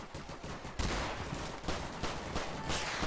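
Gunfire rattles through an NPC cops-versus-robbers fight in Garry's Mod, dense overlapping shots and automatic bursts at moderate distance, fairly quiet and continuous.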